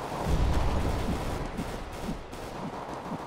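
A grenade blast in Counter-Strike: Global Offensive on the Mirage map, a loud, rumbling low burst with a dense, sustained roar under scattered distant gunfire, no voices.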